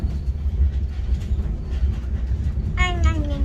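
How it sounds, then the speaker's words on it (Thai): A passenger train bound for Vienna airport gives a steady low rumble from inside the carriage throughout, with a brief voice-like tonal sound rising near the end. "ตอนนี้เขาก็อยู่บนรถไฟกันแล้วเนาะ"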